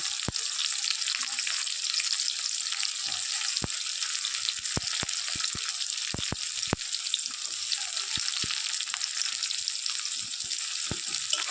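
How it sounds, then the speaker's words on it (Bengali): Garlic, chili and chopped onion fry in a pan for a Bengali puti fish chorchori, giving a steady, close, bright sizzle throughout, broken by sharp clicks of a utensil against the pan and no talking. "তারপর রসুন লঙ্কা আর হচ্ছে পেঁয়াজ কুচিটাও এর মধ্যে দিয়ে দিচ্ছি"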